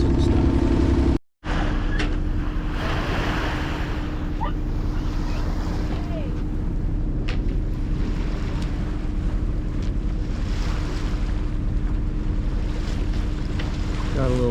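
Sailboat motoring at sea off the Mexican coast on a calm day, a steady low engine drone mixed with wash of water and wind buffeting the microphone, continuous after a brief dropout near the start.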